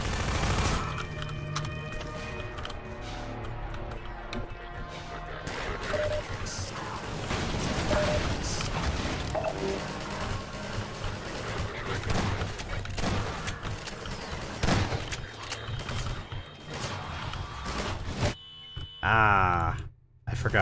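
Bursts of enemy gunfire in Half-Life 2, loud and dense, repeated rapid volleys with crashes and impacts scattered across a chaotic firefight, continuing nearly throughout.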